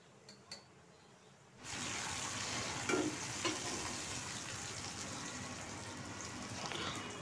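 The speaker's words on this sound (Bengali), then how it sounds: "এরপর এই পেঁয়াজটাকেও আমি একটু নরম করে নেব, মানে হালকা লাল বর্ণ করে ভেজে নেব।" Chopped onion hitting hot oil in a pan after garlic has fried, a quiet start that bursts into loud, continuous sizzling, with a couple of brief clinks as it is stirred.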